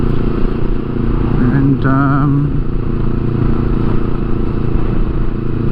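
A motorcycle engine drones steadily and loudly throughout while riding near the old Puffing Billy train station in a small town, with a brief rising tonal whine partway through and a single spoken word.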